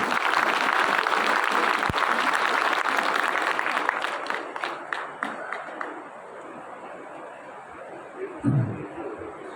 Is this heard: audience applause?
yes